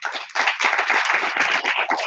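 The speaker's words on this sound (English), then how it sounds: "Can you give them a round of applause, please?" Audience at a startup pitch and demo night clapping steadily, a dense, close round of applause that starts abruptly and holds for about two seconds without speech.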